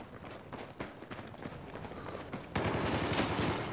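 Gunfire in Battlefield 4 during a team deathmatch on the Zavod 311 map: scattered sharp shots at first, then a dense, loud sustained burst of automatic fire filling the last second and a half.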